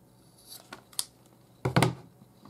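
A few sharp snips sound in close succession, followed by a louder crunching cut, as scissors slice through thick paracord close by.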